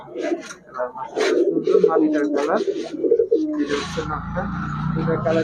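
Pigeons sold cheaply in a shop, with crested and plain pairs, coo and burble close by while someone talks over them.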